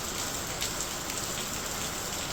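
Steady, dense rain pours down, a constant hiss of drops hitting surfaces with no other sounds standing out.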